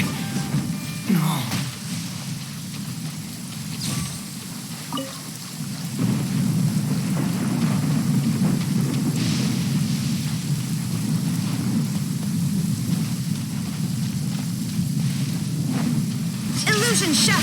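Heavy rain hisses in a constant wash with low rumbling thunder rolling underneath, a storm-themed skill effect in the Genshin Impact video game, with brief sharp impacts scattered through.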